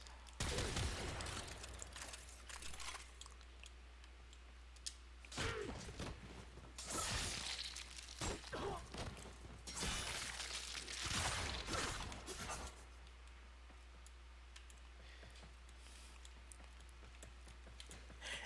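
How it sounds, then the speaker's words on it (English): Bursts of crackling, shattering blasts roll in overlapping waves, rising and falling over a steady low hum, a rapid cascading chain of explosions from enemies killed in Warframe. "Any enemies that are killed while primed like this will set off a cascading chain of explosions"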